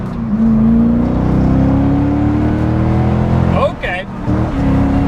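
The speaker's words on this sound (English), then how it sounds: "Let's hear that Borla exhaust." A yellow 2001 Chevrolet Corvette C5 with a Borla exhaust accelerates hard, its V8 note climbing steadily through the gears, loud and close, with a brief dip at a shift and voices faintly underneath.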